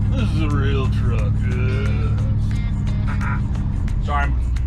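1980 Ford F-350 service truck with a big block V8 driving, a loud steady low engine drone inside the cab, with people talking over it throughout.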